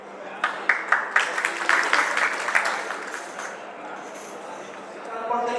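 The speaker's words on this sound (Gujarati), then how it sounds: "આપણે શું તાળીઓના ગડગડાટથી વધાવીશું." Clapping from an audience at a Kutch Prajapati community hall event breaks out in short bursts, then settles into a steady wash of applause with voices of the crowd mixed in.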